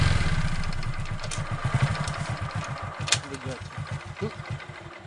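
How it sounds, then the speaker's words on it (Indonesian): A motorcycle engine idles close by with a fast, even low putter that softens as it runs, while a narrating voice speaks over it. "ucap Sardi sebelum Jasin menstarter motornya."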